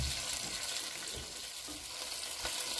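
Beef steak seasoned with salt frying in a pan, a close, steady hissing sizzle with occasional stirring scrapes, alone with no speech.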